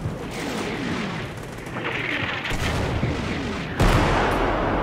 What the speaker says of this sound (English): It's artillery.